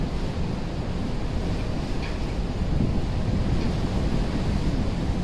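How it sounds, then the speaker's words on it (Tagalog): Steady roar of strong wind buffeting the microphone over crashing surf, loud and continuous throughout with no voices. "kaya lalong lumaki yung alon"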